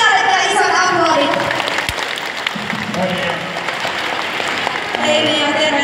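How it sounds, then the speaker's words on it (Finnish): Dense, steady clapping from a live audience at a Finnish stage show fills the whole stretch, with voices talking over it. "Annetaanpa Nealle vielä isot aplodit."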